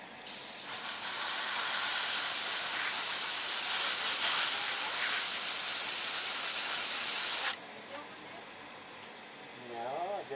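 An airbrush sprays paint thinned with lacquer thinner onto a Tiger Model Curtiss P-40 Warhawk plastic model plane, producing a loud, steady close hiss for about seven seconds before it stops, followed by quiet handling sounds.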